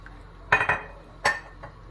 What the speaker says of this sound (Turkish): Şimdi bunu güzelce karıştıra artık pişireceğim.